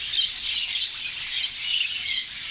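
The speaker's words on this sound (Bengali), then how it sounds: "বাজিগার" Budgerigars in a Saudi Arabian bird shop chirp and chatter continuously in a dense, bright high-pitched warble, a flock close by with no voices.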